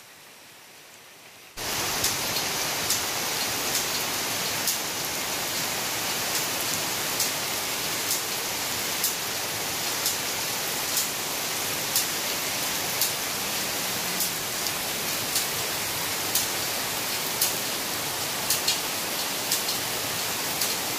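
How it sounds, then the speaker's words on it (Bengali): Morning rain falls steadily, a dense, even wash of drops that starts suddenly after a quiet moment and continues unbroken, with occasional sharper drips standing out nearby. "দেখো সকালে উঠেই বৃষ্টি পড়ছে"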